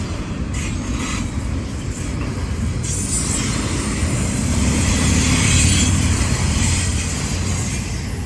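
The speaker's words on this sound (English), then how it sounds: "Probably my last train of the night." A Norfolk Southern freight train led by a BNSF locomotive rolls past on the Charlotte District, a loud, continuous rumble of railcars with squealing wheels and metallic clatter that swells slightly in the middle.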